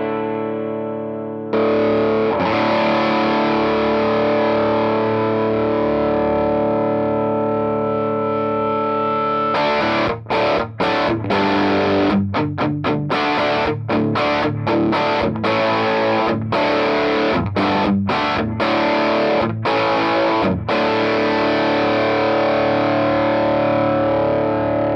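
Heavily distorted electric guitar through a Walrus Audio Iron Horse v2 distortion pedal, sustained saturated chords, then choppy rhythmic palm-muted stabs with short gaps between them; loud and close, no voices.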